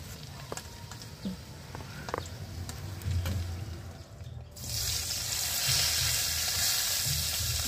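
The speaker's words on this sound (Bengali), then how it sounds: "যে আলু ভেজে যে বাকি তেলগুলো ছিল তার মধ্যেই আমি পেঁয়াজগুলো দিয়ে দেবো।" Onions sizzle as they go into leftover oil from fried potatoes, a quiet frying hiss that jumps to a loud, steady crackle midway and holds to the end, with some stirring and clinks.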